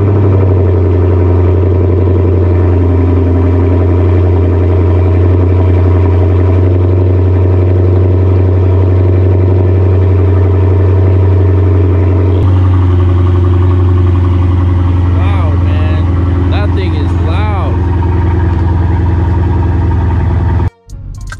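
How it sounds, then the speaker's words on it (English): A Scat Pack Challenger with a 3-inch Magnaflow catback and no mufflers rumbles in a deep, steady idle close by for about twenty seconds, with a few light blips near the end before stopping. "I really do like the sound of this exhaust, especially with that three inch pipe all the way back with no mufflers."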